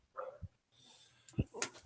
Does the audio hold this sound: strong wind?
no